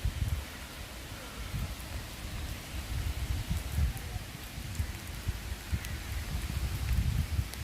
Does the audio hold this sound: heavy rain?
yes